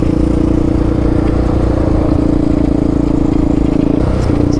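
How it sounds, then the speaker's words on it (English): A Yamaha Raptor 700R SE ATV engine cruises steadily in fifth gear on a hot mountain road, a loud continuous drone with a firm low hum and clattering texture, close and unbroken for the whole stretch. "Just cruising fifth gear here"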